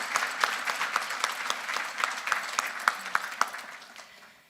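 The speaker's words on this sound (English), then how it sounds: "Let's give them a round of applause for their generous support." A lecture audience applauds in dense, crisp clapping with a few sharper individual claps standing out, steady at first and then gradually thinning and fading toward the end.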